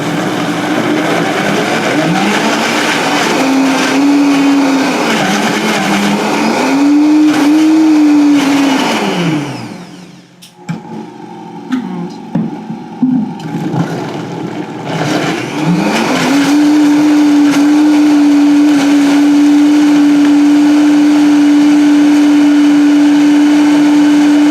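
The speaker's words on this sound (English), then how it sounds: "give this a quick zhuzh with the mixer" Mixer whirring as it blends frozen yogurt with honey, a loud steady motor drone that rises and dips in pitch, stops briefly partway through, then restarts and holds one even tone.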